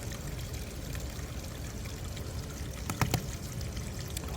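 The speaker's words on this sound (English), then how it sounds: "Water's running," Water running and draining through newly fitted plumbing pipes in a crawl space, a steady low rushing and trickling hiss that stays even throughout, faint and continuous with a brief clatter near the end.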